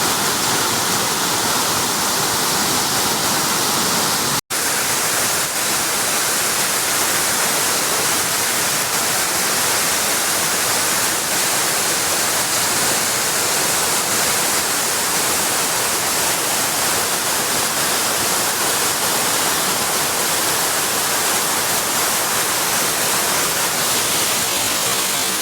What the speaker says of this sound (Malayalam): ഈ വെള്ളച്ചാട്ടം കണ്ടോ, നല്ല ഭീമ പാറകളാണ്